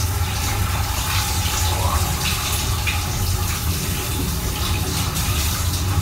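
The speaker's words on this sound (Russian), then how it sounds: "конечно, принимаю душ в поезде." On a passenger train, a shower runs in a steady, close, continuous hiss of falling water, with no clear breaks for its full length.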